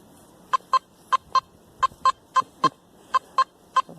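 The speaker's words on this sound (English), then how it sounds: "a little squawky signal, and it gets higher." A series of short, squawky electronic beeps from a metal detector, about a dozen in loose pairs and singles, close and clear over a quiet background.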